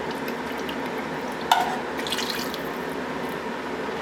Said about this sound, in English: Pour the rest of the water here so I can kind of squish it around.